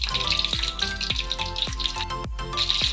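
Lumpiang shanghai sizzle steadily in hot oil as they fry golden brown, a continuous close crackle broken by regular soft clicks and taps of a utensil turning the rolls.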